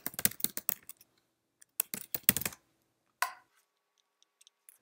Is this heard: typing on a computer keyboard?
yes